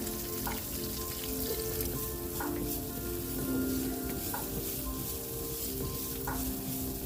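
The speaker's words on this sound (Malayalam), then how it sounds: "ഒരു സവോളയുടെ പകുതി എടുത്ത് ചെറുതായിട്ട് അരിഞ്ഞ് ആഡ് ചെയ്യുക. നല്ലപോലെ വഴറ്റുക." Half an onion, finely chopped, sautéing in a pan with dried red chillies and curry leaves, giving a continuous close sizzle with occasional soft stirring scrapes and no talking.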